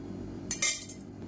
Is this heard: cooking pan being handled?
yes